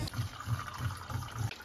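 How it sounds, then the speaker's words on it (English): A water pump hums in a camper build while water rushes steadily through the plumbing, with a rhythmic low pulsing under a continuous watery flow before it cuts off near the end. "Then we turn the pump back on."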